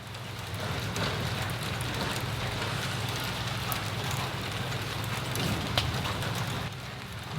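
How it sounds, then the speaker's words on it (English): Rain falls outside in a steady, dense patter, continuous and even, with a few sharper drops standing out. "Currently raining"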